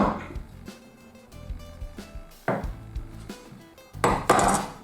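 Pastry dough being cut in half with a knife on a wooden board, heard as a few soft thuds and scraping knocks close by, with quiet kitchen clatter between them and no talking.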